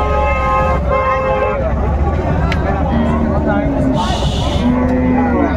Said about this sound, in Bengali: শাহিওয়াল জাতের গাভী এবং বাছুর গরুগুলো বেচা কেনা হচ্ছে,